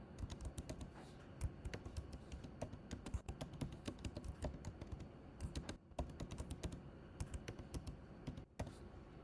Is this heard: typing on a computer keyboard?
yes